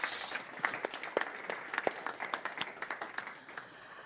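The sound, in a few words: audience applause for the minister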